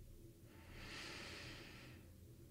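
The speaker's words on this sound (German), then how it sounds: "Atmen." A single slow breath drawn in and let out during a guided relaxation exercise, soft and close, rising and fading over about two seconds with no talking.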